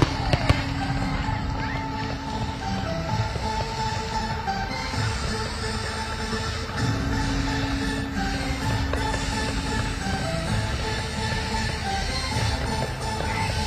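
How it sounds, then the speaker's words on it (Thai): Fireworks launched to open the Pattaya Countdown 2024 celebration, a dense continuous wash of crackling bursts and distant booms rolling steadily without a break throughout. "นี่เป็นพลุนะคะที่จุดขึ้นมาเป็นสัญญาณบ่งบอกว่ากิจกรรมเค้าดาวพัทยา 2024เริ่มขึ้นอย่างเป็นทางการแล้วนะคะ"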